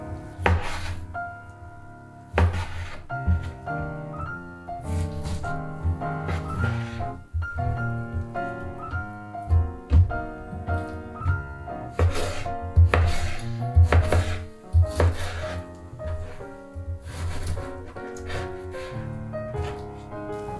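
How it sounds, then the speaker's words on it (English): A knife chops pork into big chunks on a cutting board for spicy Korean jeyuk bokkeum, with repeated sharp close knocks in uneven bursts over a faint background of music. "Normally you should cut this pork like you do with bulgogi, really thin, but I was wanting bigger chunks today."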